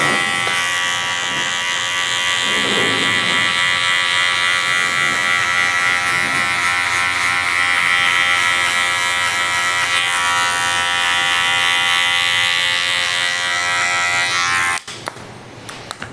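An electric hair clipper fitted with a 1.5 guard, lever at the middle setting, cuts hair during a military-style fade haircut, humming steadily and loudly for about fifteen seconds before switching off.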